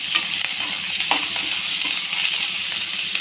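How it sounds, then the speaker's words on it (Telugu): Onions and two green chilies fry in a pan with cumin, mustard seeds and curry leaves, giving a steady, close, bright sizzle with occasional stirring scrapes and no talk. "ముందుగా కట్ చేసి పెట్టుకున్న ఆనియన్స్ రెండు పచ్చిమిర్చి కూడా వేసి బాగా ఫ్రై చేస్తాను"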